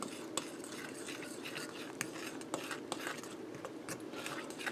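A fork stirring pot pie dough in a bowl, producing faint, rapid clicks and scrapes of metal against the bowl in a steady, uneven rhythm, close by and quiet.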